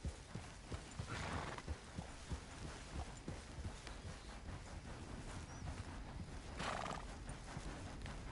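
A horse whinnies twice over a steady clip-clop of hooves, with a busy outdoor ambience throughout, in the video game Red Dead Redemption 2.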